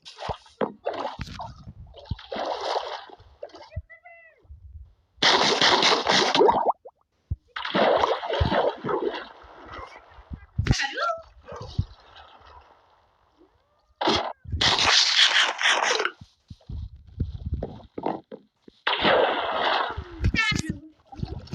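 Water splashing from swimming in the Minecraft video game at a sea beach: repeated bursts of splashy noise in uneven clusters, with children chattering between and over the splashes.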